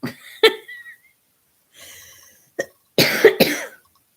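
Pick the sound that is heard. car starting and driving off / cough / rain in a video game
cough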